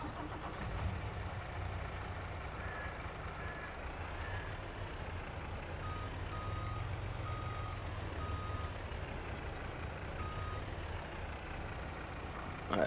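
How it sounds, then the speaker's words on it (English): A logging truck in Farming Simulator 22 backs up on a forestry site, its engine rumbling steadily while a regular series of reversing beeps repeats over the drone. "move this truck back some more so I don't get entangled with this fence"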